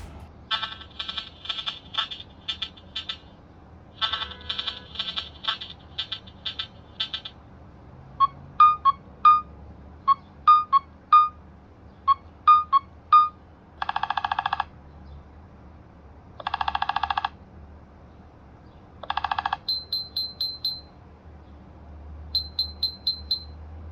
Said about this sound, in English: Nothing has 10 cool beepy boppy ringtones that light up the glyphs